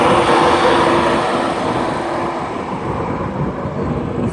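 Class 91 electric locomotive 91111 pulls out of York bound for London King's Cross, a loud, close, steady rumble and roar of rolling stock that eases slightly as it moves off, with no talking.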